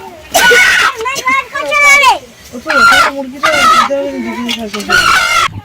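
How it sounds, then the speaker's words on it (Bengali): A rooster and a hen squawk and crow loudly up close in repeated harsh bursts with short pauses between. "এই দুটো মোরগ আর মুরগি নিয়েছি"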